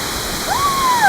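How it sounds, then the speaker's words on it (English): Two waterfalls pour down near Meteora, Greece, with cool water splashing: a steady, close rushing wash of falling water that holds even throughout, with a thin whistling tone gliding over it partway through. "there are 2 waterfalls coming down"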